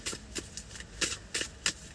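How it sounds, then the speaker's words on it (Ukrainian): Tarot cards being shuffled by hand, a series of five or six crisp riffling bursts in a steady rhythm, close and moderately loud with no speech. "Поки я тасую, підписуйтесь"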